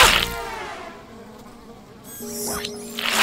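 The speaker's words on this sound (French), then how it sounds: "Hé Horace, pourquoi les mouches aiment-elles les ordures?" A cartoon fly in the animated children's show Blippi Wonders buzzes with a steady, tonal drone around garbage, loud at the start, fading in the middle and swelling back up near the end.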